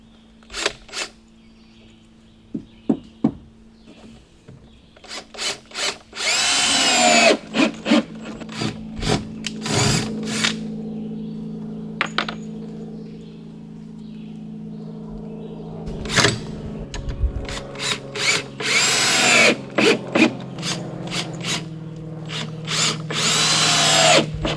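Power drill driving screws into the wooden rafters of a solar shed under construction, heard in repeated loud whining bursts separated by short pauses, with occasional knocks and scraping from the work between them.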